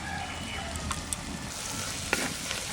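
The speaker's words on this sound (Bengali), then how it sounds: "এবার নাড়তে থাকবো যতক্ষণ না তেল ছাড়বে মশলা দিয়ে, ততক্ষণ নাড়বো" Ground spices sizzle steadily as they are stirred in oil in a pan: turmeric, Kashmiri chili powder and roasted spice powder, stone-ground for a hill-style meat dish. Faint scraping clicks come through now and then.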